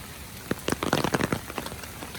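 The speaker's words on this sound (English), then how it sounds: "I like to take my time to listen to the rainfall" Rain patters in a scatter of close, crisp drops on a surface over a soft steady hiss, during a rainy day in Taiwan.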